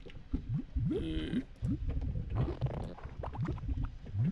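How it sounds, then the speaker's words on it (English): Lava in the Harvester video game gives off repeated short, low, bubbling fart-like blurts in an irregular rhythm, fairly close and moderately loud. "lava doesn't fart. I said it doesn't fart. Stop it. Got the wrong sound effects here"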